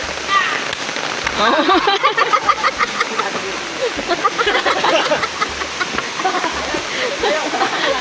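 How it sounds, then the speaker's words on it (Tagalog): Heavy rain pours down constantly by a river, a loud dense hiss of drops on surfaces, with a person talking over it. "mamaya-maya ay lumakas na rin talaga yung ulan"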